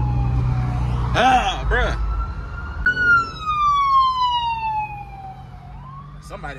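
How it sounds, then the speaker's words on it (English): A paramedic ambulance siren in traffic wails in long descending sweeps close by over engine rumble, with a brief spoken exclamation. "But now I see paramedics coming up in my rear view."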